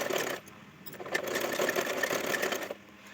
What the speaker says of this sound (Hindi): ऑल राउंड स्टिचिंग कर लेंगे।